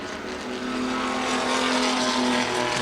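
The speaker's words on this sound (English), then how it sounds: "The cars all the way around the Lucas Oil Raceway." Front-wheel-drive compact race cars roar around Lucas Oil Raceway in a 20-lap feature. Engine noise swells into a loud, sustained drone as the field passes close by, with no talking.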